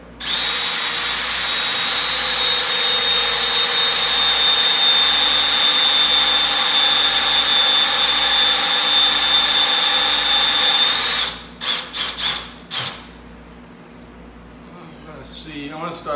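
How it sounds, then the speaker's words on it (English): A power drill bores through a box stretcher using a drilling guide, running continuously for about eleven seconds with a steady high whine, close by, then cuts off into a few short clatters and rattles. "And drill away."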